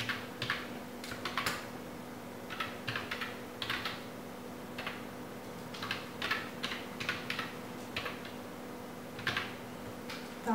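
Clicking keystrokes on a computer keyboard while an email address is entered, in irregular bursts of quick taps with short pauses, close and fairly quiet over a steady low electrical hum.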